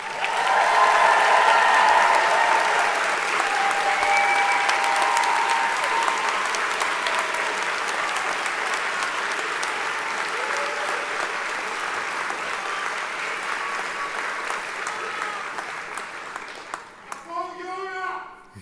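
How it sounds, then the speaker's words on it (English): A large graduation audience at a journalism school ceremony claps steadily for a long stretch, loud at first and gradually thinning. A voice speaks over the last moments. "We can now applaud for everyone."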